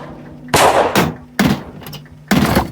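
Gunshots in the video game Rosewater: four loud, sharp blasts spaced unevenly over a low background hum, each with a short ringing decay.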